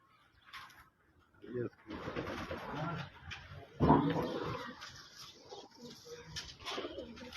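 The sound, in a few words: pigeon cooing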